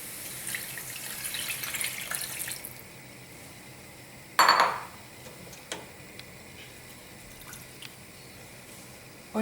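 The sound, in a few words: chicken stock being poured into a pan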